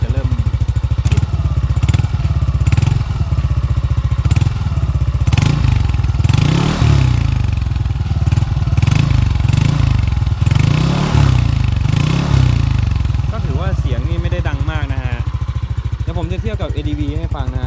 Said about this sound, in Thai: สำหรับเสียงเครื่องยนต์ธรรมดาสำหรับรอบสูงนะฮะ